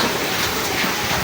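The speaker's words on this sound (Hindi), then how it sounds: "बहुत जबरदस्त बारिश हो रही है" Heavy rain pours down in a dense, loud, unbroken hiss of drops beating on surfaces, with no voices heard.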